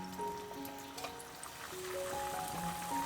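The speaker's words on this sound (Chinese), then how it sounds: "再倒入适量水没过食材" Water poured into a pot over broccoli and chicken breast, a steady trickling stream lasting several seconds with faint tonal clinks and background hum, no voices.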